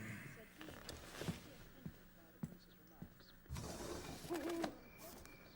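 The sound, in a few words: barn owl call in a Harry Potter radio drama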